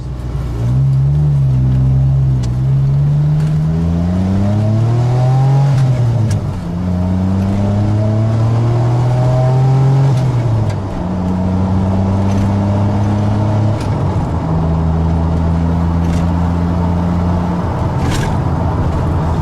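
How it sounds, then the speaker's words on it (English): DeLorean DMC-12 with its rear-mounted engine accelerating up through the gears, each loud rising engine pitch dropping at the shifts, several gear changes in a row, close and continuous with no talk. "you can go up through the gears and actually feel like you're travelling at a reasonable pace"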